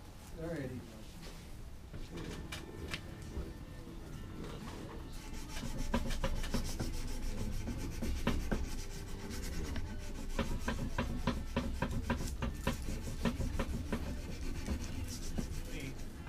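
Sandpaper rubbed against a bone nut on a guitar during assembly, a steady scratchy rasping that repeats in short strokes and grows louder after the first few seconds, with people talking over it.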